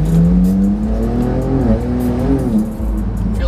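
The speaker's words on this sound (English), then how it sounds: "Feel the clutch slipping?" A Porsche 911 Turbo S tuned past 1000 horsepower accelerates hard with its clutch slipping, giving a loud, close, sustained engine drone whose pitch wavers and dips instead of climbing cleanly, with no talking over it.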